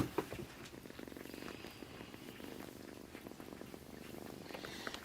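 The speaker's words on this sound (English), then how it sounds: "You're doing some purring." A kitten purrs steadily and softly right up close, a continuous low rumbling flutter lasting throughout, with faint crackles and rustling around it and no talking.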